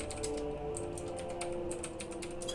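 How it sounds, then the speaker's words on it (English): Typing on a computer keyboard, a steady run of light clicks that carries on throughout beneath a continuous hum of game music. "just spelling and typing"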